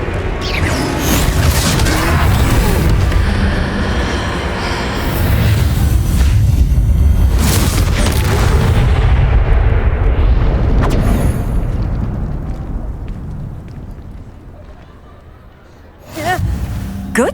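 A Confringo blasting spell from Hogwarts Legacy, heard as a loud, sustained roaring explosion with crashing debris that swells, fades away, and then gives way to a sharp new burst near the end.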